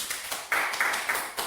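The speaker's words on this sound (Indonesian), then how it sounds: "Mari semuanya berikan tepuk tangan." Office staff applauding a promotion candidate at a company meeting, a few sparse, light claps arriving in small bursts, fairly quiet and close, with no voices over them.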